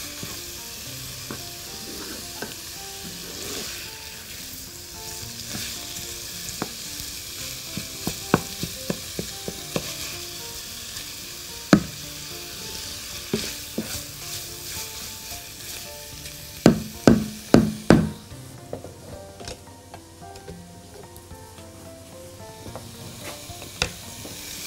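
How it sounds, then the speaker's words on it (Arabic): Minced meat frying and being stirred in a pan, a low steady sizzle broken by scattered scraping clicks and a few sharp utensil knocks against the pan near the end. "لازم اللحمه تتحمر كويس قوي"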